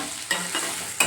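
Ground masala for a capsicum recipe sizzles in a pan, a low steady frying hiss under a couple of brief spoon scrapes, close up.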